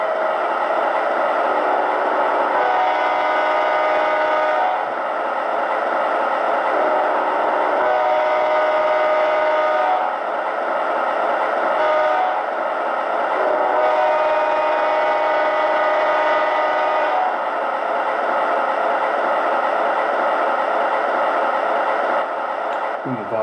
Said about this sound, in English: the railroad crossing, when you play that sequence, the horn sound seems to sound a little lower